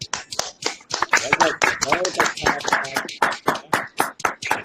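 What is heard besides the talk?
audience clapping for the doctor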